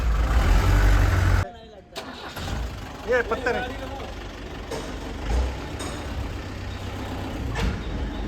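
Old Tata 407 LPT tempo truck engine rumbles loudly at first, cuts off abruptly, then a diesel idle resumes with occasional hisses and clunks while people talk nearby.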